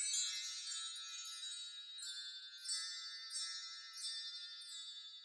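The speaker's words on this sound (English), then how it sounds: "this is the bell tree without effects" A bell tree played dry with no effects, its bright shimmering cascade of tiny metal chimes ringing on and off in several swells, close and alone.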